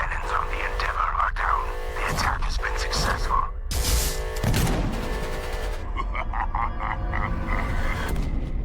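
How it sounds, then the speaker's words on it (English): A defense cannon fires in a video game trailer as a rapid burst of heavy blasts, dense and loud, set against music and effects. "Defense cannon"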